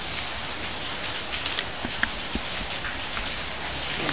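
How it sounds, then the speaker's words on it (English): Rain falls steadily in the background as a constant soft hiss, with scattered louder drops tapping on a surface, and no voices. "You can hear the rain in the background."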